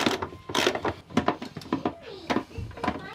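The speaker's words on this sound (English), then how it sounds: "We tighten this up with our half inch socket." A ratchet fitted with a half-inch socket tightens the floor bolts of an RV toilet, producing quick runs of close, rapid clicking that stop and start several times.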